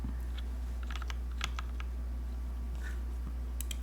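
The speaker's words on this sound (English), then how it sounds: "Oh, that's a funky keyboard in many ways." Typing on an HHKB Black Prophet keyboard fitted with H1 switches: scattered, fairly quiet keystroke clicks in irregular bursts over a steady low background hum, with no talking.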